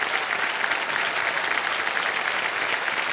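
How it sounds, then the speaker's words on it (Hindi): The studio audience of the quiz show Kaun Banega Crorepati applauds in a steady, even wash of many clapping hands for a few seconds, loud and close with no gaps. "ये तालियां बजती रहें इनके लिए, मीनाक्षी जी के लिए।"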